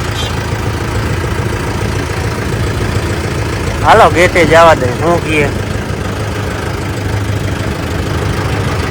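Tractor engines idle with a steady low rumble at a busy loading spot in a village, and a voice breaks in briefly midway over the constant running.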